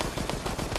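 Rapid gunfire from the survival horror game Resident Evil: Resistance, a dense stream of close, loud shots fired in quick succession with no voices over it.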